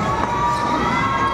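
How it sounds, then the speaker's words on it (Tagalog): A dense, loud crowd at a basketball game shouts and cheers continuously, a steady roar of many voices filling the space without pause. "Sumisigaw sila dun sa baba."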